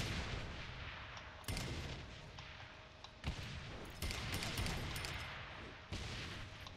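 A barrage of grenade explosions from the Saints Row The Third video game lands in rapid succession, several sharp booming blasts piling over a dense, noisy rumble.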